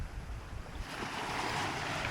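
Rocky, rolling Pacific Ocean swells around a sailboat running wing on wing, a soft, steady wash of water and wind that swells slightly louder toward the end, with no voices.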